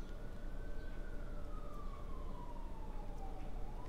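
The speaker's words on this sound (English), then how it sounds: "What the heck with the sirens?" An emergency vehicle siren wails with a slow, descending tone over a steady low rumble of background noise, sounding some distance away and continuous throughout.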